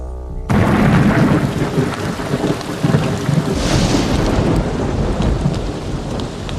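A heavy rain downpour roars right after a quiet start, with thunder rumbling through it; the sound is loud, dense and constant.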